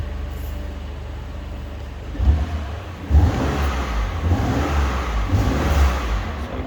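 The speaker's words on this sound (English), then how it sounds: "just so I could give it a little rev for you" A 2019 BMW M2 Competition with 405 bhp revved while parked, its engine building from a steady idle into several loud rising blips and held revs against a soft limiter.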